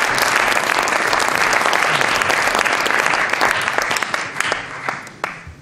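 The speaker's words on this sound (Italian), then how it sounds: "A tutti voi un altro applauso." An audience at a Joseph Beuys event at the Accademia di Belle Arti in L'Aquila applauds loudly. Dense, close clapping thins out into a few scattered claps near the end.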